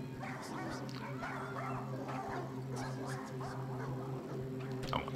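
A dog yips and whimpers repeatedly, fairly close, over a steady low hum and with voices talking in the background.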